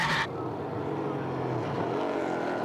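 EuroNASCAR race cars drive a wet circuit at the Czech Republic round, a dense roaring engine drone mixed with hissing tyre spray, steady and loud throughout.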